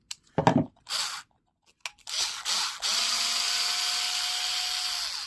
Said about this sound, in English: This is a screwdriver because it's easier.